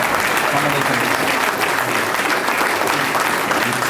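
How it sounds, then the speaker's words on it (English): Sustained applause from an audience at a talk by Student Minister Ava Muhammad, dense steady clapping filling the whole stretch with crowd noise and some voices mixed in. "Let us give our sister a round of applause"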